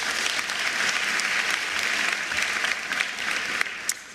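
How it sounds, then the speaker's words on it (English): Applause from an audience at the 2024 National Senior Certificate results announcement: a sustained wash of clapping from many hands, moderately distant, with a few sharper claps toward the end. "Can we please give them a round of applause?"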